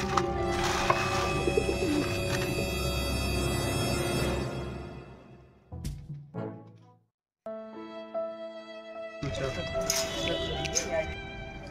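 Pigeons coo close by in a repeated throaty rhythm while being caught, with bursts of rustling and people talking throughout.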